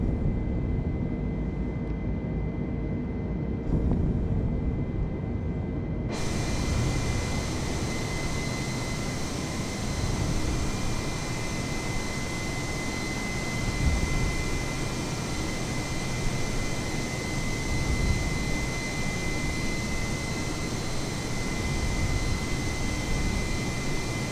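Airbus A320neo jet engines in Microsoft Flight Simulator roar with a steady broadband rush and faint whine while climbing after takeoff, loud and constant throughout with no talking.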